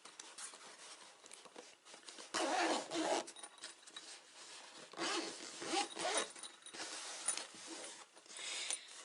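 Zipper on a zippered fabric pouch pulled open and shut in several quick, close rasping strokes, fairly soft and with no talking.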